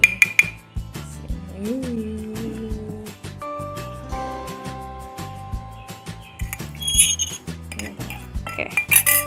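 Coffee poured into a glass for homemade iced coffee, with repeated clinks and taps of glass and utensils over a background of music, several sharp strikes near the start and end.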